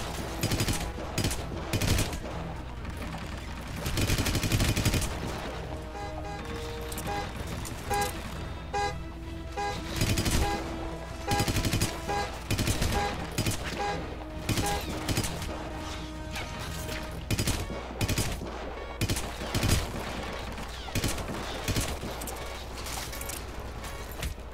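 Repeated gunfire from a firefight in Hitman: Absolution, with bursts of shots, crashes and impacts over a steady game music bed throughout.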